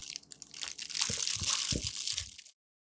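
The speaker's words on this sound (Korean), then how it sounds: "경쾌한 아삭 소리에 한번 반하고" Crisp, wet crunching of kohlrabi kkakdugi (cubed radish-style kimchi) being bitten and chewed nearby, several juicy crunches over about two and a half seconds before cutting out.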